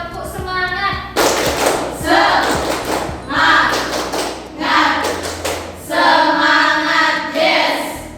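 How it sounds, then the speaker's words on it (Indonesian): A classroom of students claps a rhythmic spirit clap in bursts, sharp hand claps mixed with group chanting and shouts, close and loud. "Oke, tepuk semangat."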